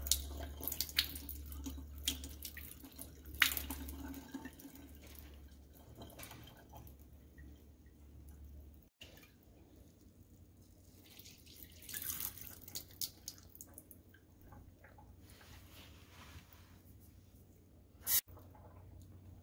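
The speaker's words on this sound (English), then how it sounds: "Just pouring the carrots out of their water." Water from cooked carrots being poured off into a kitchen sink, a soft running splash that starts strongly, then thins to faint trickles and drips with a sharp clank near the end.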